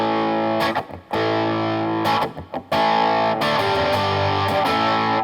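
An electric guitar plays through a distortion pedal with the gain turned down, giving a mildly crunchy tone. Sustained chords ring out, broken by a few brief choppy gaps, and then one long held chord rings to the end.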